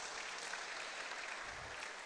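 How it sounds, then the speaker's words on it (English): An audience at the Still Water Mental Health Foundation's 2024 mental health symposium claps steadily, a soft, even wash of applause heard from a distance for a couple of seconds. "Please, a round of applause for him."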